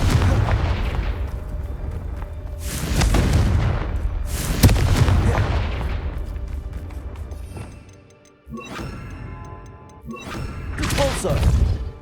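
Repeated fiery Confringo spell blasts in the wizarding game Hogwarts Legacy, loud booming bursts around three, five and eleven seconds over a rumbling battle bed with some voice activity.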